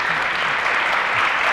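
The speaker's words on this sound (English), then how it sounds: "I want you to all give them a round of applause." Audience applause at a business conference, a steady dense clapping from a full room that holds evenly throughout with no voices over it.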